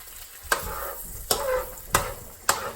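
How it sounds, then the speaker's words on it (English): Eggs frying in butter in a skillet over low-medium heat give a soft, steady sizzle, broken by four sharp clicks or taps at roughly even intervals. "what we're gonna do is just fry our eggs"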